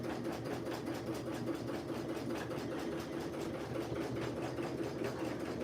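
A sewing machine runs steadily, back stitching to reinforce the straps on a tee, a close continuous mechanical whir with a fast regular needle pulse and no talk over it.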